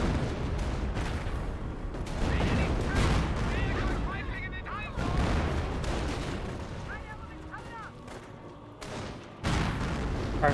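Gunfire and M10 tank-destroyer fire in the strategy game Company of Heroes, a dense spread of shots and booming blasts under continuous battlefield noise, with someone talking over the action throughout.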